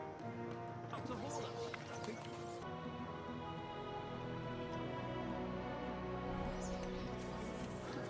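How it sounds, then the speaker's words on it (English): Horse hooves clip-clop steadily in the medieval game Kingdom Come Deliverance 2, a moderately close rhythmic trot running under a dense, continuous bed of tonal game music and ambience. "Look at that. Proper horse."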